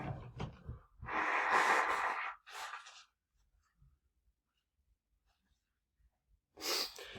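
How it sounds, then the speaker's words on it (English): A person blows their nose hard into a tissue, with a long forceful honk followed by a shorter blow, a quiet pause with faint rustling, then a final burst of breathy blowing near the microphone. "Blow my nose again."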